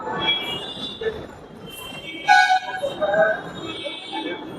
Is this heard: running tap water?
no